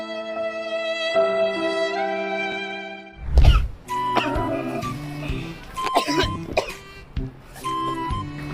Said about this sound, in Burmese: မင်းဘာလို့ချောင်းဆိုးနေရလဲကွာ